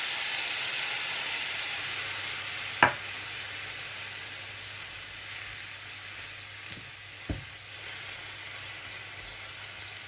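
Carrots simmering in half a cup of milk in a pan give off a steady, soft sizzling hiss throughout, broken by two brief utensil clicks against the pan.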